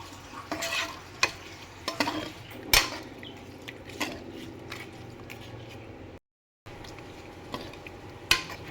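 A spoon scrapes and clinks against a pot as soaked rice is stirred into mushroom biryani, irregular close knocks and scrapes over a soft, steady sizzle, with a brief dropout midway and no talking.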